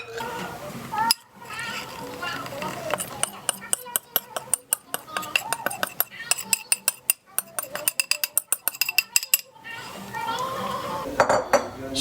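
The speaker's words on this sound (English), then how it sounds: "So I'm going to mix the flour into the yeast." Flour is mixed into yeast in a bowl with rapid, repeated clinking and scraping of a utensil against the bowl, loud and close, with a voice talking at the start and end.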